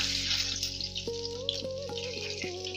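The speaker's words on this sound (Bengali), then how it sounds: "তো ফোড়নের জন্য দিয়ে দেবো পাঁচফোড়ন আর শুকনো লঙ্কা।" Panch phoron and dried red chillies sputter in hot mustard oil in a kadai, a soft, steady sizzle with light crackles under a faint tonal hum.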